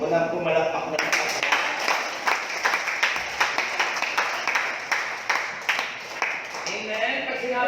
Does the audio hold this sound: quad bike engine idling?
no